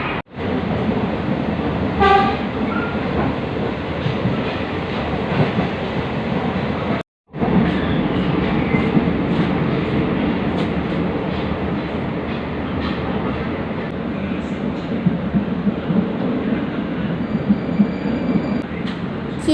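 An Indonesian Cut Meutia passenger train rumbles along the rails with a steady, loud roar from inside the carriage, broken by a brief dropout partway through and a faint horn toot early on.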